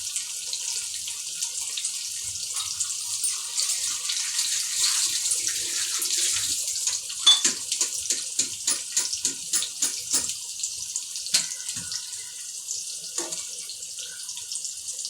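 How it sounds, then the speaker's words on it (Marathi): Tap water runs steadily into a sink while cabbage is rinsed under it, with a constant hiss of flow broken by irregular splashes and drips as the leaves are handled close by. "टोमॅटो फ्राय होतं तोपर्यंत मी कोबी धुवून घेते।"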